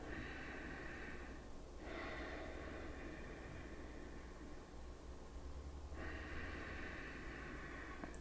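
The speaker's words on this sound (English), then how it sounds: "take nice deep inhalations through the nose" Slow, deep breaths drawn in and let out through the nose during a quiet yoga session, soft and close, with long steady airy swells over a faint background hiss.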